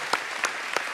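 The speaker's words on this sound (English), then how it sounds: "You guys should be clapping at that." Audience at a political campaign event applauds in a brief, sparse patter of a few distinct claps over a steady room hiss, with no voices over it.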